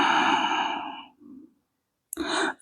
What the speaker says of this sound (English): We take a round of breath.